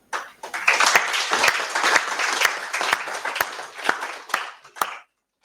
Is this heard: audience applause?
yes